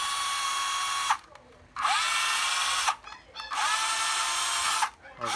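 A used cordless drill with 22 clutch settings plus a drill mode runs in three steady high-pitched bursts, separated by brief pauses as it spins down and starts again, close and loud with no talking.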